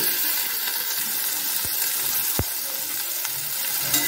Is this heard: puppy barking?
no